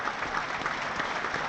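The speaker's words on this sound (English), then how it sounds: "the players all applauding as well" A football stadium crowd and players applaud together, a steady, dense wash of clapping that holds at an even level throughout.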